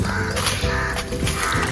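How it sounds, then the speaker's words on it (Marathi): A crow caws amid constant bird calls and chatter in a lush, jungle-like garden, the calls layered over a steady, busy outdoor din. "कावळा ओरडतोय"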